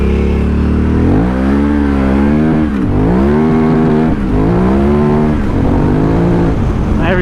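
KTM 990 adventure motorcycle engine revving up and pulling hard through successive gears on trails, pitch climbing and dropping at each shift, loud and close with no talk.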